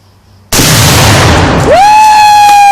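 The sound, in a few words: tannerite exploding after being shot with a gun, against a tree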